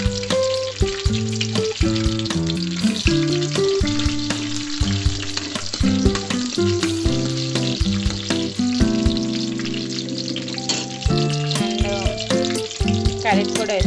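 Green chilies fry in a pan with softened onions for tomato rice, giving a steady close sizzle. Melodic tones play over it throughout.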